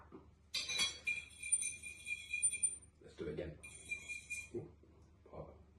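A fork clinks and scrapes against dishes of hot sauce in a few bright metallic bursts, close by, with a person speaking briefly between them.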